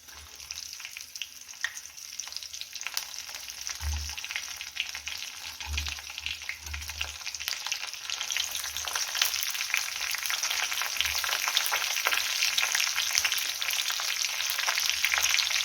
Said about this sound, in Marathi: तर तेलामध्ये आपण मिरच्या टाकून घेतलेल्या आहेत थोडंसं फिरवून घेऊ